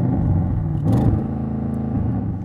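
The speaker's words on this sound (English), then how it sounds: "Go on then Audi, rev it up." Audi RS7 engine revved while stationary during a drag-race comparison with an AMG GT 63S 4-Door, a fairly muted, soft-limited rumble with a short rise in the middle, heard alone.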